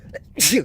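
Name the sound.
sneeze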